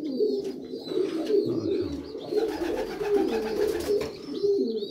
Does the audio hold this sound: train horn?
no